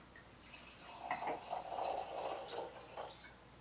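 Riesling wine is poured generously into glasses, giving a soft, close liquid trickle and splash that rises and falls over a few seconds, with faint room noise behind it.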